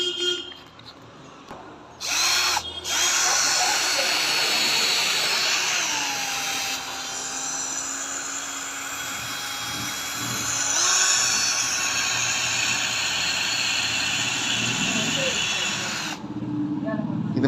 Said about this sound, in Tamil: இது மாதிரி பேட்ரி கன்னில் போட்டு நீங்கள் பஃபிங் பண்ணிக்கலாம்.